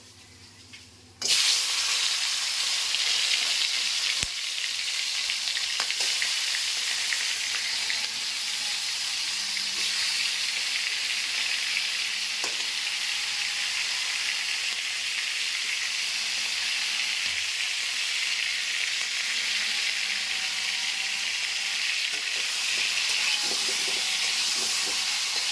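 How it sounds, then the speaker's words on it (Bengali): Crabs fry in hot mustard oil with a steady, loud, hissing sizzle that carries on without a break, plus an occasional faint tap of a utensil. "তেলটা গরম হোক, তারপর আমি কাঁকড়াগুলোকে ভেজে নেব"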